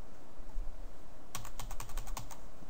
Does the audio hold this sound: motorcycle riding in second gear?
no